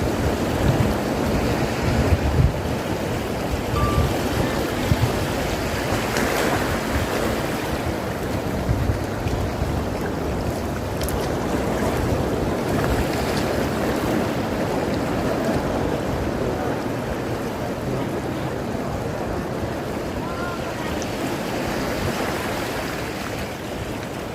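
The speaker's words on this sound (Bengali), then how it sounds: "কিছুক্ষণ সমুদ্রের গর্জন শুনে যাই" Sea waves roar along the beach at Saint Martin's Island around sunset, a loud, continuous surf wash with gusting wind across the microphone and no talking.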